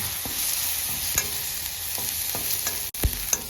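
Potatoes frying in a pan with salt and turmeric added, stirred with steady soft scraping and a continuous gentle sizzle, a few sharper utensil knocks punctuating it, close up with no talking.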